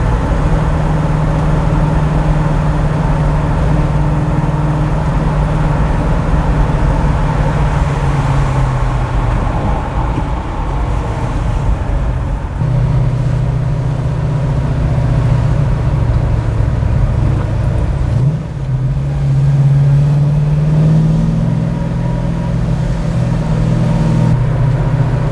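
A Ford Falcon XB GS Hardtop fitted with a big cam, its engine rumbling loud and close for the whole stretch, rough lumpy idle rising and falling as the revs are held up, with no talk over it.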